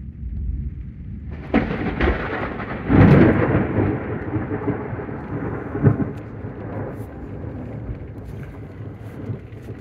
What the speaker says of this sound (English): here's the storm